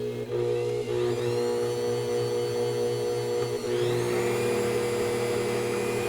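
Planetary stand mixer running steadily on its suction-cup base, a constant motor hum and whine with a rising pitch shift partway through, close and alone.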